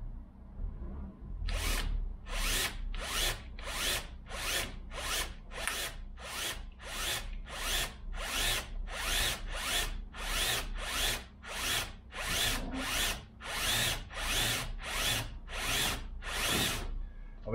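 A power drill boring 2.5 mm holes in a 1972 Range Rover, running in about seventeen short regular bursts of high whine, evenly spaced and close, with no talk.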